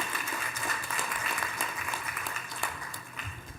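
Audience applause at a securities markets conference: dense, steady clapping from a large seated crowd, moderately loud and sustained throughout without pause.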